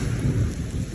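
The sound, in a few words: rain and thunder in a storm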